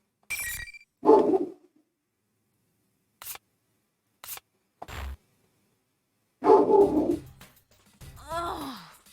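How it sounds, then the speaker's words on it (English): A pet dog barks and groans in short bursts in the background, with several separate outbursts spread across the stretch, fairly close and loud against otherwise quiet surroundings. "My dog's going mad in the background."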